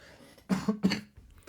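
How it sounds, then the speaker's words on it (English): A short fit of coughing, three quick harsh coughs in a row, close by, followed by a faint throat sound. "Sorry, I've got a cough."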